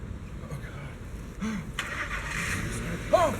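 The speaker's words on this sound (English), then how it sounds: "I just heard a truck start up." A truck engine starts up at a distance, a brief cranking and catching rumble rising partway through, mixed with close, excited talking.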